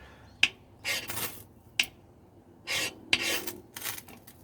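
A ferro rod is struck repeatedly against fatwood shavings, sharp scraping rasps in several quick strokes, each with a bright snapping onset, close and otherwise quiet.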